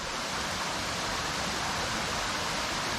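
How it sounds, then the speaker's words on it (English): Water pours over the upper portion of Frolictown Falls in Sapphire Valley, western North Carolina, making a steady, broad, close rushing roar with no break and no voices. "You can see the water is just kind of flowing."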